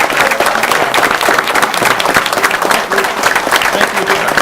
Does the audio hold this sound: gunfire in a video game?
no